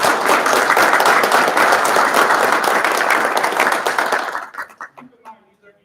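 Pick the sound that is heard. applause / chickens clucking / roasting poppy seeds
applause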